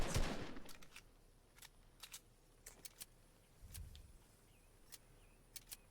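Video game gunfire: a loud shot at the start, then scattered sharp cracks and some distant shots spread over several seconds in a live-streamed shooter match.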